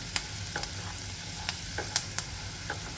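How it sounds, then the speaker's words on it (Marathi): Garlic turning golden brown as it sizzles in hot oil, a steady quiet hiss dotted with scattered crisp pops and light clicks of stirring. "आपला लसूण थोडासा गोल्डन ब्राऊन होत तर आपण इथे परतून घेऊया"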